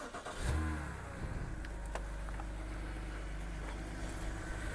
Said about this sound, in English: So I'm just going to start the car now.